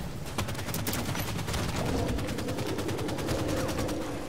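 Allied gunfire in Halo 5 rattles in dense, rapid automatic bursts that run without a break, loud and close, with individual shots crackling over a continuous battle rumble.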